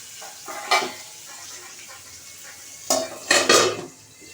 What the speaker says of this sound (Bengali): তো এটা মাছ ভাজতে ভাজতে আমি ঢাকা দিই ঢাকাটা দিয়ে দিই